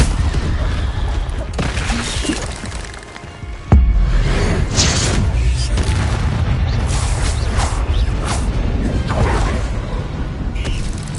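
A Confringo blasting curse goes off in a Harry Potter game as one sudden loud boom near the middle, set against steady rumbling game ambience and scattered smaller impacts.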